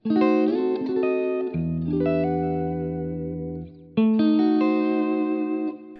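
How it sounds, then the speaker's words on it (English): Electric guitar plays a few chords including a diminished chord, one sustained low and dense, a brief pause, then another chord arpeggiated upward and left ringing. "Let's talk about the diminished chord that you so often hear in this music."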